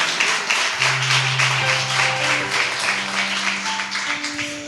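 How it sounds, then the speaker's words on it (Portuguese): A church congregation applauds with a steady, dense patter of many hands clapping, while sustained organ or keyboard chords play underneath. "Dê uma salva de palmas para o Senhor Jesus."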